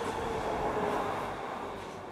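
Underground subway station ambience with a train, a steady, fairly loud rumbling roar filling the space throughout, slowly easing a little toward the end, with no voices.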